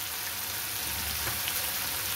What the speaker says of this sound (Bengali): আমি দিয়ে দেবো কড়াইশুঁটি